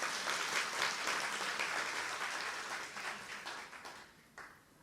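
Audience at a spiritual talk breaking into sustained applause, a dense wash of clapping that holds steady before thinning and fading at the end.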